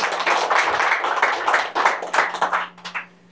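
A church congregation claps for God during a Sunday sermon, a brisk, fairly even run of many hands that fades out after about three seconds.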